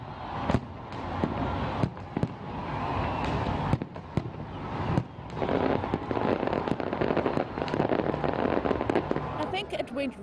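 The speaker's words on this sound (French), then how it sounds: "un majestueux spectacle de feux d'artifice a été organisé pour marquer le passage à la nouvelle année 2016" Fireworks crack and pop repeatedly in irregular bursts over a steady roar of crowd noise, fairly distant, at a New Year 2016 celebration.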